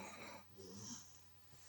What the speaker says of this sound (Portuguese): Tá até roncando